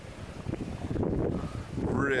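Wind buffeting a 1976 SeaCraft 23 Sceptre boat behind its tinted windshield, a steady low rushing roar close to the microphone, with someone talking over it.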